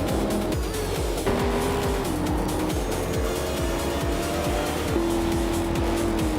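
A 1988 Porsche 944 Turbo races in a video game, its engine revving hard in a rapid saw-tooth pattern through repeated gear changes, with steady tire squeal layered on top, loud and close without any voices.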